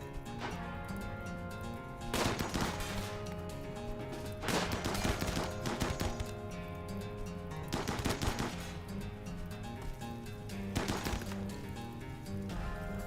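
Video game gunfire on a map of shallow water, with several loud automatic bursts repeating every few seconds over a steady layer of game music and ambience.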